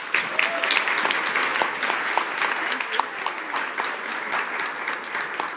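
Audience applause for a conference panel, a dense sustained clatter of many hands clapping close by for several seconds, with no talk over it.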